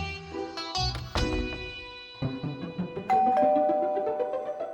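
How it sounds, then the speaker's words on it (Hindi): Household doorbell ringing repeatedly, a series of bright electronic chimes and ding-dong tones in quick succession, close and clear with no talk. "कितनी घंटी बजती है इस घर में"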